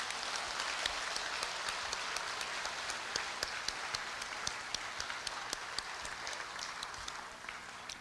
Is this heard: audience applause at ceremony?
yes